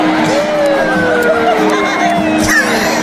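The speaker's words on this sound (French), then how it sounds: "Écoutez les réactions de la foule" A concert crowd roars with scattered whoops and high whistles in a continuous wash of noise, voices mixed into the din.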